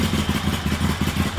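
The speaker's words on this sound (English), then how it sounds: "So we turn the key, killer switch, make sure it's in neutral, and it should fire." A motorbike engine idling just after starting, a steady close putter with an even pulsing rhythm and a mechanical clatter, no talk.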